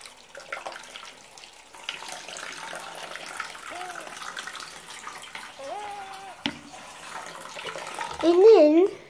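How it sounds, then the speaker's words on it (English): Water runs steadily from a restroom tap, a low continuous wash, while a voice rises over it with a few short sung or wavering vocal sounds, the loudest near the end. "Turn on the water again."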